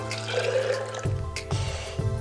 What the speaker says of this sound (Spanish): Vamos a poner un poco de agua